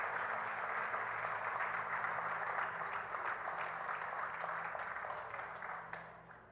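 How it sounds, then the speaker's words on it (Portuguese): A church congregation applauds in a dense, sustained wash of many hands clapping at once, steady at first and then tapering off toward the end. "Você pode aplaudir a Deus."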